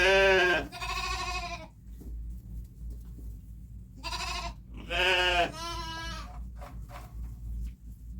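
Sheep and a lamb bleat outdoors on a farm in several loud, wavering calls, two at the start and a longer pair midway, with quieter short bleats after and a steady low hum underneath.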